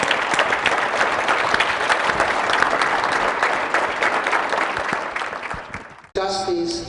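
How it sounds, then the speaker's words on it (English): Audience round of applause for a film at a panel screening, dense and steady clapping that tapers off, then cuts abruptly to a voice speaking at the end. "I want to invite you all to to extend a real round of applause for this remarkable film."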